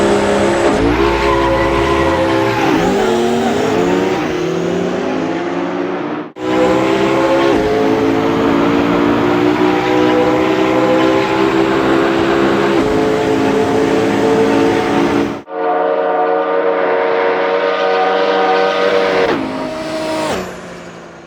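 An Audi R18 Le Mans prototype race car in Assetto Corsa, set in a drag race, roars at full throttle. Revs climb steadily, with two sharp gear-change drops, then fade slightly at the end.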